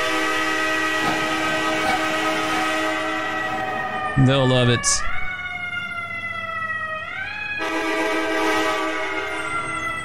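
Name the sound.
fire truck train horn in EmergeNYC video game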